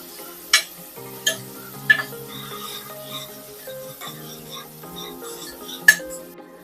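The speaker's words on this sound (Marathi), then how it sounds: "आता टोमॅटो सुद्धा यामध्ये काढून घेऊया आणि अगदी अर्ध्या मिनिटासाठी चांगला मिक्स करून परतून घेऊया" Onion and tomato are sautéed and stirred in a pressure cooker for South Indian rasam rice. A spoon knocks against the metal in several sharp, spaced clinks over a faint sizzle, with soft background tones.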